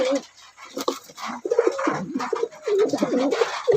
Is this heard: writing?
no